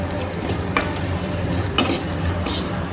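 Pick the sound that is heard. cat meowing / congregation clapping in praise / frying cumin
frying cumin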